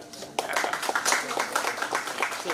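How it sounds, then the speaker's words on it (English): An audience at a district-level school event in South Goa claps together in a brisk burst of overlapping hand claps. The clapping starts abruptly after a brief quiet moment and continues steadily, close and fairly loud. "Let's give clap"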